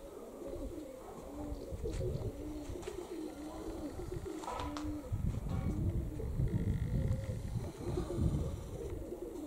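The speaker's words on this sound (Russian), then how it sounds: "А голуби вот кружат" Young pigeons circling above a house, with steady soft cooing from birds close by and a continuous low murmur throughout, no voices.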